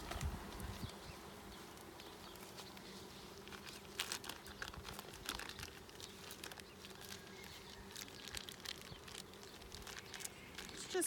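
Honey bees from a newly installed 3 lb package buzz at their hive during an inspection, a soft, steady hum. Faint crinkling and handling noises sound close by.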